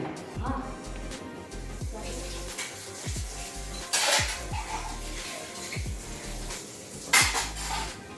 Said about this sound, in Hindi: फटाफट किचन साफ़ करेगी, बर्तन धुलेगी